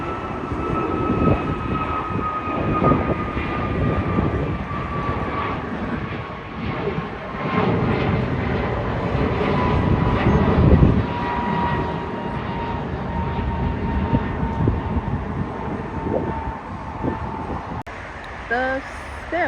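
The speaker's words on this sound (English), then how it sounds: "Oh, American Airlines just took off." An American Airlines jet takes off at LAX in rainy weather, a sustained, loud engine roar with a slowly falling whine that builds and holds as the plane climbs away.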